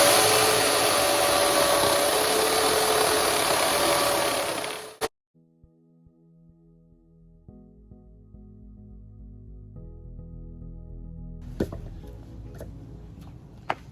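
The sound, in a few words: Harbor Freight chainsaw cutting a few-inch-diameter branch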